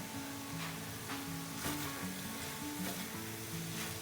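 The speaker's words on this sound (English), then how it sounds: "We're going to add that in now and give that a good stir." Fresh peas stirred into vegetable egg fried rice sizzling in a hot pan, a quiet steady frying hiss with faint scraping of the stirring utensil and no talking.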